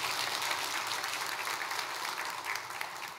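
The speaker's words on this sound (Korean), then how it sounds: "박수하겠습니다" A church congregation applauding during a welcome in the service, a brief, steady wash of many hands clapping heard from a moderate distance, fairly soft and even throughout.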